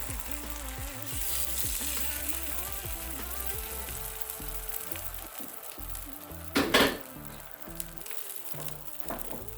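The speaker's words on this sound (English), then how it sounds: "Now I'm gonna add the eggs." Eggs cook in a pan with already sauteed vegetables, giving a steady close sizzle and frying hiss throughout, with a brief clatter of a utensil against the pan near the end and no talking.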